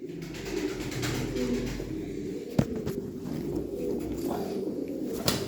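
Spotted antique pigeons coo in soft, repeated throaty calls, close and steady throughout, with a couple of sharp knocks against the bird noise.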